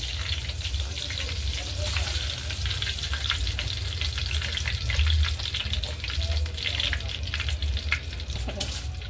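Prawns koliwada frying in hot oil, a steady, dense sizzle with crackling bursts that holds close and loud throughout.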